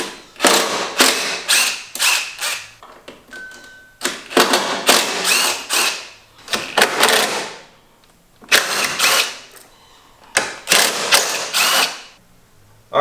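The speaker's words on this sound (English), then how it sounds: "now we got to take the top two A-pillar bolts off. Those are T40" A ratchet clicks in repeated quick bursts with short pauses between them, loud and close, as T40 bolts on the upper A-pillar of a Jeep Wrangler JK are loosened.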